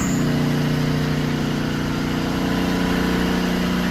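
Brunswick A2 bowling pinsetter motor running with all drive belts removed, a steady loud hum with a low mechanical drone and vibration, continuous throughout.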